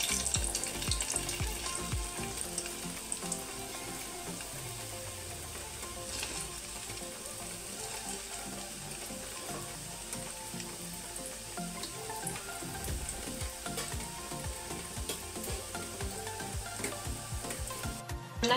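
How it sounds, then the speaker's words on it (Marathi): Rava gulab jamun deep-frying in oil over a medium gas flame, giving a steady, dense sizzle with crackling bubbles that runs unbroken from start to finish, fairly close and without any talk. "मीडियम गॅस करायचा आणि याला व्यवस्थित तळून घ्यायचं आहे।"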